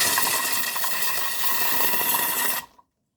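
Compressed air blasts steadily inside a closed container, blowing the skins off garlic cloves out through a hole in the middle; a loud, continuous broadband hiss that cuts off abruptly near the end.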